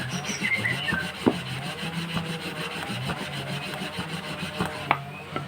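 Steady gritty rubbing and grinding as a stiff camshaft from a Suzuki Satria FU motorcycle is lapped, turned back and forth, with occasional sharp clicks and knocks.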